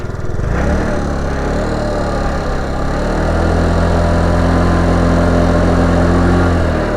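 A small scooter idles with its stock exhaust, running close and steady with a low, even putter throughout after a brief rise at the start.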